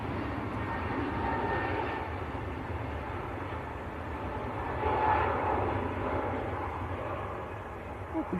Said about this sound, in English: This is EasyJet to Antalya on the Turkey Teeth run.